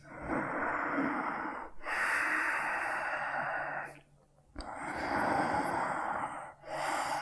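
Long, deep breaths during a Hatha yoga session, slow airy inhales and exhales drawn out over several seconds each, close and clear with a short pause between them and no talking.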